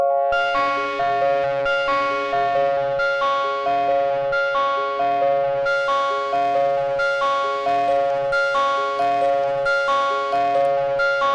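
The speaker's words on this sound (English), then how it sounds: "This is your standard distortion." A synth played through Ohmforce Ohmicide in standard distortion mode, a steady, loud, buzzing tone that pulses in even repeated notes for the whole stretch, with no voices.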